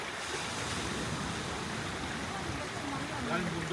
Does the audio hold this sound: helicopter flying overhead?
no